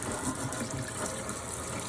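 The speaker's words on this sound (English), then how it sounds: "I'm just going to put some cold water in" Cold water gushes steadily from a tap into a kitchen sink, a continuous close hiss and splash with no talk.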